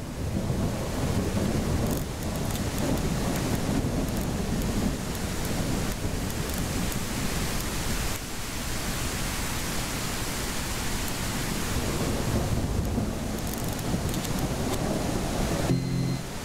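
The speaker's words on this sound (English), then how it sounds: "Why is it raining?" Heavy rain and rolling thunder from the weather in the indie racing video game Gazolinas: a dense, constant roar of downpour with deep rumbles, loud and continuous throughout.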